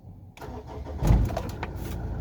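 A Mitsubishi Pajero engine cranks and catches, rising in loudness briefly before settling into a steady running rumble.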